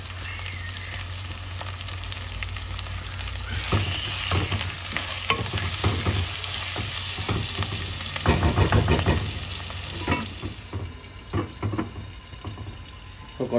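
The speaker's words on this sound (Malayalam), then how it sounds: "തക്കാളിനെ സ്റ്റിർ ചെയ്യാം." Tomatoes being stirred in a hot pan for a Kerala-style chicken curry, with a continuous sizzle and frying hiss broken by repeated scraping and clacking strokes of the spoon, loud and close, with no voices.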